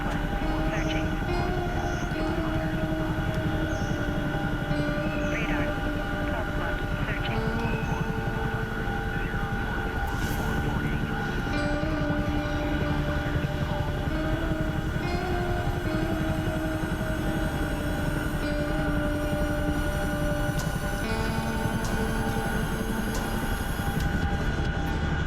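Chinook helicopter in flight, its loud rotor and engine drone filling the cabin steadily throughout, with tonal whine bands and a constant thumping roar heard from inside the aircraft.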